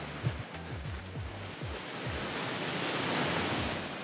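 Ocean surf rolls onto a sandy beach in Ensenada, heard from just above the sand: a continuous rushing wash of breaking waves that swells and recedes, with gusts of wind buffeting the microphone.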